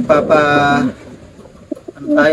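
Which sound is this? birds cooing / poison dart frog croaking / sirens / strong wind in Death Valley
birds cooing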